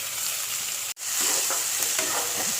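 Onion, tomato, green chili and whole spices such as star anise sautéing in a pan for egg curry, making a loud, continuous sizzle with stirring scrapes and a short break near the start.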